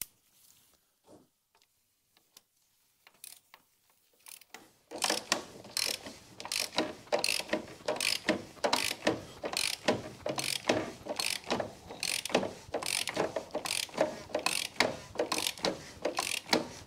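A ratchet snugs up a threaded oil filter housing during an oil change on a 2009 Ford Fiesta 1.6 diesel, producing a rapid, steady run of close, crisp pawl clicks after a few quiet seconds.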